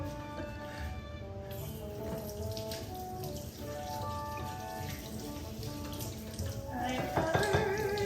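A kitchen tap runs steadily while hands are washed, a continuous close splash of water into a sink with faint background music throughout.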